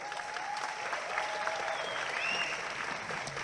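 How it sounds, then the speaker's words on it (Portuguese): Steady applause from an audience at a MindTalk 2019 entrepreneurship event, dense and continuous clapping filling the room for a few seconds, with faint crowd cheering mixed in. "Eu quero uma salva de palmas diretamente da Bahia, Rodrigo Paulilo."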